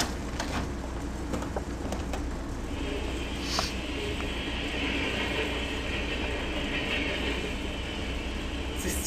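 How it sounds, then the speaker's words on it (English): A train rumbles along the rails with a steady low drone and faint clicking, and a higher whine rises midway and holds to the end. "This train is awful."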